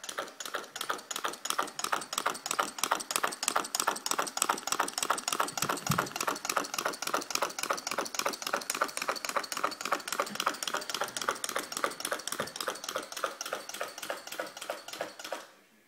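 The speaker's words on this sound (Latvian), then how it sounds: "Šādi darbojas Stirlinga Dzinējs." A small candle-powered Stirling engine runs steadily, its mechanism giving a fast, even stream of close, crisp ticking clicks that continues without a break until it stops abruptly at the end.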